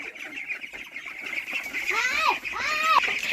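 Ducks quack a few times near the end, loud and close, over soft background voices and ambient noise.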